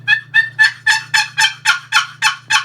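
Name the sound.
turkey call imitating hen yelps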